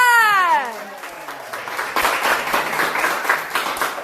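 A small group clapping in a room, scattered uneven claps that start after a falling vocal sweep and continue steadily at moderate loudness.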